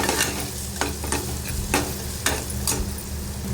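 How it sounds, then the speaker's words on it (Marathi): Coriander powder and onion-garlic masala sautéing for capsicum sabzi: steady close sizzling in oil with repeated spoon scrapes and stirring strokes against the pan. "तर हे मसाले आपण सगळे व्यवस्थित परतून घेऊया."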